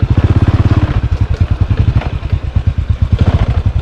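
A motorcycle engine idles loudly and close while the rider pulls over to park, a steady, rapid, even chug of low thumps that holds an unbroken rhythm throughout, with no one talking.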